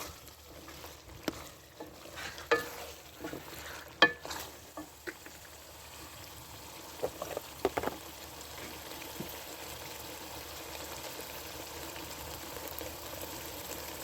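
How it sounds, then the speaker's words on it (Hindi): Potatoes frying with mutton in a pot, a faint low sizzle with a few sharp clatters and stirring knocks early on, then a quiet steady fry. "और अब मैं इसके अंदर आलू डाल के भूनने देती हूँ"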